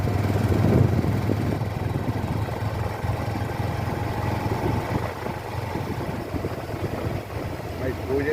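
A motorcycle rides along the seashore at Kuakata in the morning, its engine a steady, low droning rumble under wind and surf noise, with faint voices mixed in.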